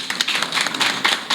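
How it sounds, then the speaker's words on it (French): Supporters at a Dragons FC de l'Ouémé fan event applaud a partner: dense, continuous crowd clapping with a few sharper bursts, close and fairly loud. "Je vous demande de l'applaudir."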